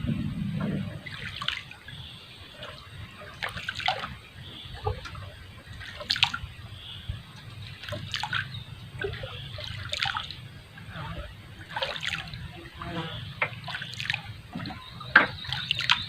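Scattered drips and small trickling splashes fall irregularly over a low background hum, with faint sounds of movement in between.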